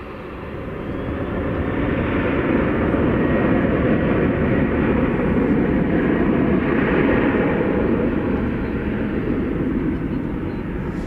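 An American Airlines Boeing 737-800 jet on a flight to Fresno passes at night at DFW Airport, its engine roar swelling from quieter to a loud, sustained rumble and holding near before tapering slightly.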